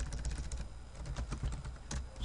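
Code being typed on a computer keyboard: steady, quiet, rapid key clicks run continuously at close range with no voice over them.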